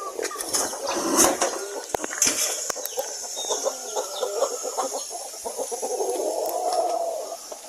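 Rhode Island hens on a farm cluck and murmur steadily, with soft fowl calls and an occasional brief wing flutter close by, no talking.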